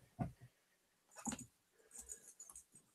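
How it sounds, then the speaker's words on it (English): A pet dog makes a few short, soft indoor yelps and whimpers, three brief bursts separated by quiet pauses, faint and close. "And that was my dog."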